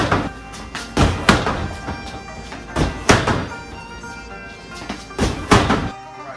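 Kicks and knee strikes, including flying knees, slam into a heavy bag, giving a series of loud, close, dull thuds at an irregular rhythm with short pauses between blows.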